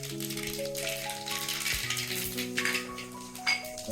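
Panch phoron five-spice seeds dropped into hot oil for broken rice pulao, crackling and sizzling close up with a brief rattle of seeds hitting the pan and a tonal ringing hum underneath.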